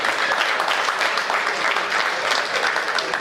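An audience at a Hindi comedy poetry gathering gives a poet a dense, steady round of applause, many hands clapping evenly and loudly throughout with no gaps.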